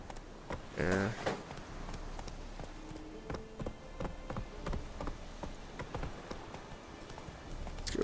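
Roach, a horse in a video game, trots with rapid, steady clip-clop hoofbeats that run throughout at moderate distance, under occasional quiet talk.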